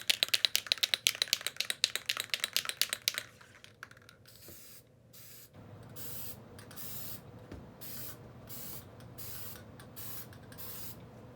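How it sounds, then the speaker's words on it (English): Spray paint is applied to garden art pieces in quick bursts: rapid rattling can shaking at first, then a series of short, close hissing sprays separated by brief pauses. "we're going to spray paint these so that they're a solid color."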